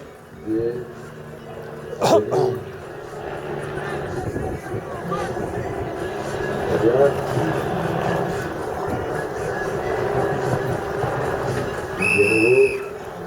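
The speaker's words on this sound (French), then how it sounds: "Allez, c'est sifflé." A referee's whistle sounds at a Nancy versus Chambly football match, several short shrill blasts over crowd murmur and an ongoing commentary voice.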